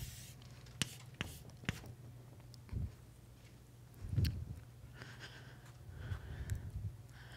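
Chalk or marker writing a term on the board during a lecture: faint scratchy strokes and taps at a distance, with soft room noise and breathing.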